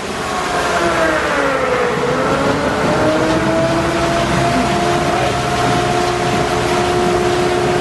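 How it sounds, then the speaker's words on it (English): A water-powered line shaft and belt drive at Hancock Shaker Village runs with a steady, loud mechanical drone and whining tones that slide slightly in pitch, continuous and close throughout. "Now we're going, I got power to all of this shaft, I got power over here."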